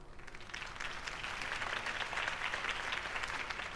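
A crowd in Batman: The Telltale Series claps and cheers after a campaign speech, the applause swelling after a moment and continuing steadily at a moderate distance.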